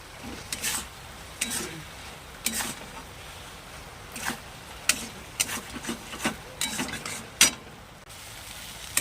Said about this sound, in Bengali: ভাজা পটলগুলো দিয়ে দিলাম